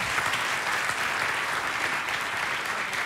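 An audience gives a band from Katowice a round of dense, steady applause that fills the room, loud and unbroken from start to finish.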